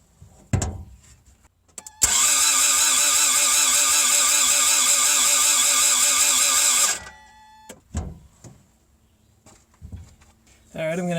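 A Toyota MR2 AW11 with a no-start condition and a suspected bad fuel pump cranks over for about five seconds in a steady, loud whirring rhythm, with brief knocks and shuffling before and after.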